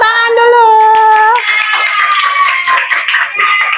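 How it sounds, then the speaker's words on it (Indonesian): Children in an Indonesian classroom clap hands together in a loud, fast burst that fades out under chatter, following a sustained tonal chime or melody at the start. "Ya, kasih tepuk tangan dulu."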